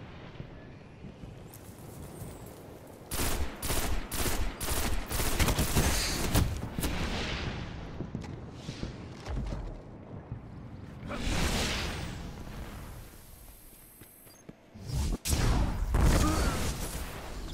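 Gunfire in a shooter video game: bursts of rapid shots and automatic fire in loud clusters, with quieter gaps between volleys and a final burst near the end.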